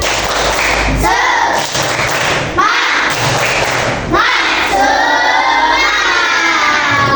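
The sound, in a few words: children's rhythmic clapping chant in class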